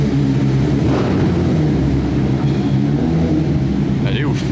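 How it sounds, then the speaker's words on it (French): Motorcycles starting up on a busy Monaco street, a steady mix of engine noise and traffic running throughout, with people talking over it. "Il y a des motos aussi qui démarrent."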